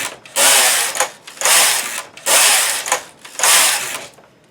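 A domestic knitting machine carriage sliding across its needle bed while knitting a hem, four brisk whirring, clattering passes in a steady back-and-forth rhythm, close and loud, each separated by a short pause, with no talk.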